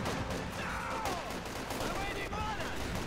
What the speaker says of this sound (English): Mortar rounds going down.